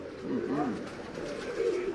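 Pigeons cooing from a crowded rooftop loft, a close, steady series of low rolling coos running throughout with soft background noise.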